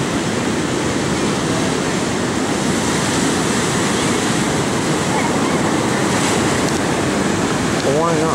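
Ocean surf rolls and breaks steadily on the beach at Lincoln City, Oregon, a loud continuous wash of water with wind noise on the microphone and no pauses.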